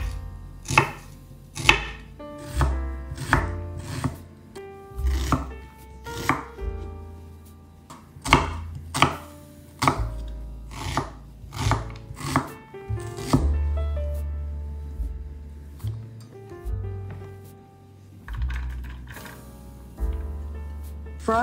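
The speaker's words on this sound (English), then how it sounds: "Chop 1 onion." A knife chops an onion on a board in a kitchen, sharp repeated cuts in irregular bursts with short pauses, close and clear, with a low hum of music underneath.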